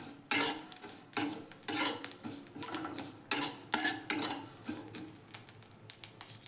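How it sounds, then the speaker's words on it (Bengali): Radhaballabhi filling with ajwain and whole cumin fried and stirred in a pan: a spatula scrapes and clinks against the metal in repeated close strokes over a soft, steady sizzle. "মিক্স করে একসাথে ভেজে নিচ্ছি ভালো করে।"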